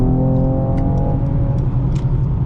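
A 2020 Mercedes-Benz E53 AMG accelerating hard while merging, a loud interior engine drone with a rising harmonic whine early on and steady road rumble beneath.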